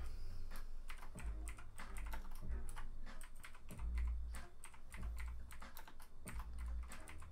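Someone types on a computer keyboard with steady, close clacking keystrokes in quick bursts and a few heavier thumps, with no voices.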